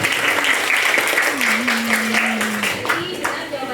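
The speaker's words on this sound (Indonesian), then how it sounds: "tepuk tangan dulu untuk semuanya" An audience at a classroom guidance session claps together for a few seconds while a voice speaks over the steady applause.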